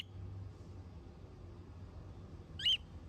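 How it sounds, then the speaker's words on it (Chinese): A pet parrot gives one short, sharp call from some distance in a quiet room with a low background hum, a brief chirp near the end of the stretch. "听到小黑在叫了，一直在努力回应"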